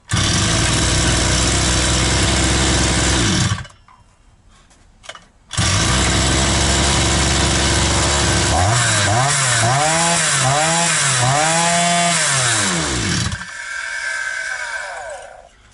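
A petrol brush cutter engine roars loudly and close after starting, cuts out briefly, then restarts and runs with rising and falling revving before easing to a lower idle.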